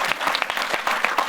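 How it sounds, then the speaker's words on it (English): Short round of audience applause in a theater after a careers-in-live-entertainment event, clear, close claps forming a lively, even patter. "Let's give them a round of applause."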